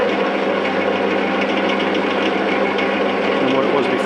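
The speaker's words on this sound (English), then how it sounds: "when we turn the lathe on, you'll see the lead screw" Metal lathe running with change gears and a lead screw, giving a steady, close mechanical whir with a fine rattling texture that continues evenly without pauses.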